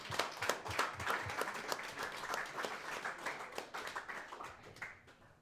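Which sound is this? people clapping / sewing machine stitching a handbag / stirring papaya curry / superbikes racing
people clapping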